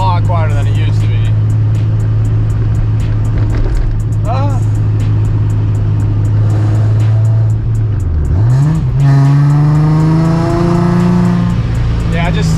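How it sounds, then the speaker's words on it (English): A Nissan 350Z with a VQ engine idles with a deep exhaust drone, then revs twice, its pitch climbing sharply before settling back. The engine is close and loud. "Yeah, it just sounds like a VQ"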